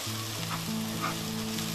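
Egg and mixed vegetables stir-fried in a hot pan for fried rice: a dense, continuous sizzle fills the brief stretch, with soft scraping stirs and a steady low hum underneath.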